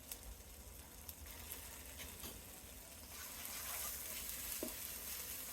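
Chopped onion frying in oil with ginger-garlic paste and salt for a vegetarian mixed vegetable curry, a constant loud sizzle with occasional light stirring clicks, swelling slightly toward the end, no speech.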